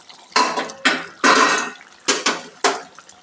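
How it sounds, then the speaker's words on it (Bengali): A metal lid comes off a pot of potato curry that has simmered over medium heat. Five loud, close clanks and rattles of metal on metal sound in quick succession, each fading with a brief ring. "এবার খুলবো ঢাকাটা।"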